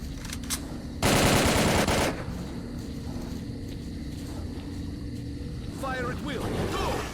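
Rapid automatic gunfire in the S.T.A.L.K.E.R. Call of Pripyat video game: a loud, dense burst lasting about a second over steady background rumble, followed by quieter ambient noise and faint chirping sounds.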